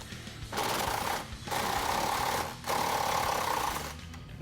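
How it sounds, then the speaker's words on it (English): Power tool running in three sustained bursts, separated by short pauses, while removing the 16mm upper shock bolts on a 2007-2018 Jeep Wrangler JK 4-door during a lift kit install; loud and close, with no talking. "We're going to start by removing the two 16mm bolts that hold the top of the shock on."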